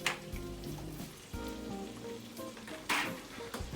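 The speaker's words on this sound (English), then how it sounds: "we're just going to saute these string beans" String beans sautéing in olive oil with garlic, a steady close sizzle with a few louder bursts of crackle as they are stirred in the pan.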